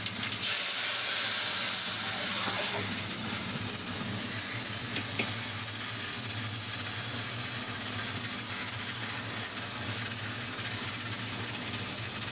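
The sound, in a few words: tempering (phodni) sizzling in pan for kadhi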